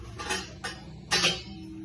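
Three separate clinks and clatters as microwave oven cookware dishes are picked up and set down, close and moderately loud, with quiet pauses between each knock.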